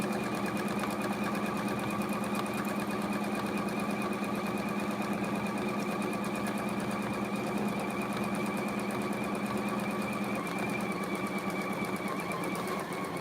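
A sewing machine stitches steadily around a quilting template, a close, continuous fast whirring hum with even mechanical ticking throughout and no talking.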